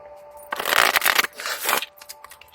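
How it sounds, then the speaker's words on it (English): A tarot card deck is shuffled by hand in two quick riffling bursts, the cards flapping and riffling crisply and up close, with no voices over them. "I'm going to shuffle"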